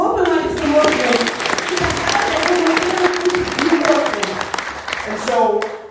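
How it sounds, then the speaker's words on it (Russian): An audience at an event in Almaty claps steadily for Alex Morton, the applause sustained throughout while a voice speaks over it. "Давайте похлопаем Алексу Мортону."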